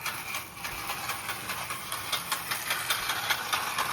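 A sparking O gauge model train motor runs unevenly, making a steady buzzing whir with rapid, regular rattling pulses, close and continuous, with no voices.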